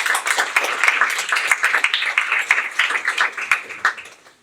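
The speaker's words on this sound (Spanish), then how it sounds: "un aplauso por favor" An audience at a quarterly company event claps together in a burst of applause that fades out after about four seconds.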